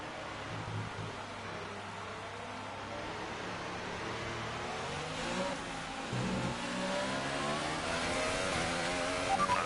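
Formula 1 car engine in the F1 2018 racing game, a steady mid-pitched drone that swells and rises toward the end, continuous and fairly close with no talk.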